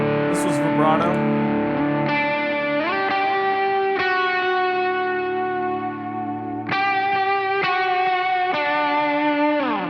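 An electric guitar plays through the vibrato effect of a Chaos Audio Stratus multi-effect pedal, ringing chords with wavering, pitch-bending tones, several struck in sequence, loud and near with a slight echo.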